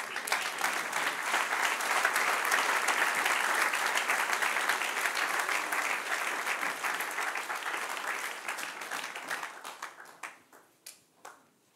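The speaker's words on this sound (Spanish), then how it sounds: "Denle un aplauso al que vive." Church congregation applauding, a dense, sustained wash of clapping that holds steady for about ten seconds, then thins out into a few scattered final claps.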